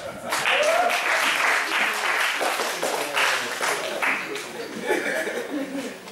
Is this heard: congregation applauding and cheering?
yes